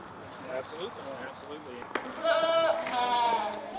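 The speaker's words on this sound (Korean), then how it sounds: "겉으로 보기엔 평범해 보이는 이 염소들은 세상에서 유일한 종류의 염소들이다." Goats on a Utah State University research farm in Logan bleat in a few wavering calls over narration, with a sharp knock partway through.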